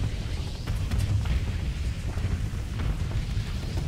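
A star fortress unleashes explosions in a space combat video game, a dense, continuous rumbling barrage of booms and bursts with no voices.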